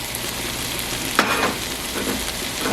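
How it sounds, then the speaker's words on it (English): Saltfish tipped into a pan of vegetables that have been frying for a couple of minutes gives a soft, steady sizzle, with a brief clatter as it drops in and faint stirring afterward. "So my veggies have been frying for about 2 minutes now, so I am just going to add the saltfish"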